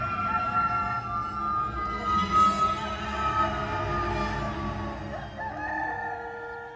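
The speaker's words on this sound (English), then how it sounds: "And at once, a rooster crowed." A rooster crows in one long, drawn-out call at moderate loudness, with no voices over it.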